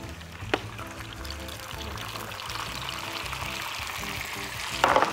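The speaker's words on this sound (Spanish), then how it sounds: "un poquito de aceite con ajos" Garlic frying in a little oil in a pan, a steady close sizzle in a kitchen on a live TV cooking segment, with a faint tonal hum underneath and no talk.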